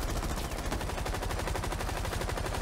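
Sustained rapid automatic fire from a light machine gun in Rainbow Six Siege, a dense, steady stream of shots at close range, loud and unbroken for the whole stretch with no voices.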